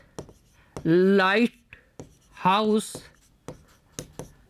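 A pen scratches out a maths solution on paper with short, sharp strokes and taps. The writing falls between and under a close speaking voice.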